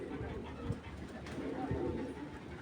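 Pigeons of a rare head type give low, rounded coos in short bursts, close by, with a human voice mingled in the background.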